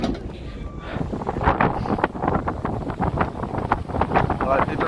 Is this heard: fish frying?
no